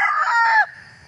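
A heritage chicken rooster crows loudly and close, a single short cock-a-doodle call cut off after about half a second, then quiet.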